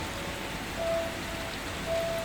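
Steady rain hisses evenly throughout, a dense wash of falling water with no voices.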